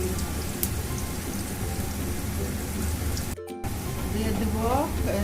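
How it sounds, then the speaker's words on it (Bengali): Onions fry in oil for a fish curry with tomatoes, giving a dense, steady crackling sizzle throughout, briefly cut off for an instant, with a voice speaking over it. "পেঁয়াজটা একদম ডার্ক করে ভেজে নিতে হবে"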